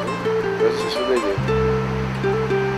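Strong ocean waves crashing onto an island shore, a loud continuous surf roar with a steady low tone mixed in.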